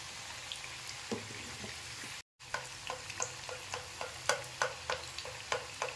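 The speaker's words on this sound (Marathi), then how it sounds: "याची एक बाजू चांगली तळून झाली की मग आपल्याला हा पलटी करायचा आहे" Pea vada cutlets frying in oil on a flat pan give a steady soft sizzle punctuated by regular crisp pops and spatters, with a brief silent gap partway through.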